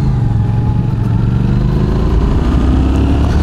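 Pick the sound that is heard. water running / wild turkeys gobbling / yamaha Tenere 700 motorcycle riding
yamaha Tenere 700 motorcycle riding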